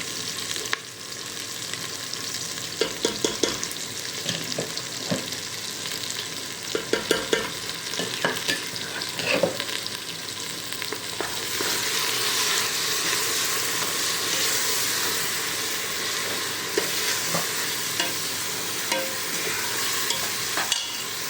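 Spice masala with red chilli powder frying in a pan for mutton curry, stirred with a spoon in scraping strokes over a continuous loud sizzle that swells and stays dense through the second half.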